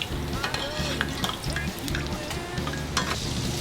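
Potatoes fry in a pan of oil with a steady sizzle and crackle throughout, along with some pan and stirring noise nearby.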